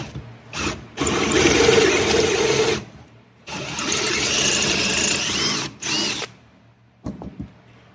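A DeWalt 3/8 drill boring out bolt holes, loud whirring bursts of drilling in three long runs with short pauses and a brief final blip, no talk.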